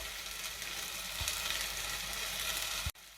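Spinach cooks in a pan with a constant, fairly quiet sizzle and hiss, broken by a couple of low knocks and a sudden cutoff near the end.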